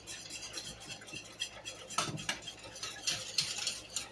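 A spoon stirs milk into a homemade coffee creamer mixture in a kitchen, giving soft, irregular clinks and scrapes against the container, close but quiet, with no talk.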